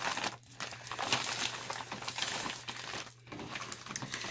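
A woven plastic feed bag is folded in half, crinkling and rustling softly and continuously up close, with brief pauses in the handling.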